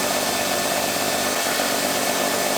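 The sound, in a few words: paddle mixer stirring epoxy in a cup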